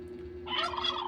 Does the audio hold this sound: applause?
no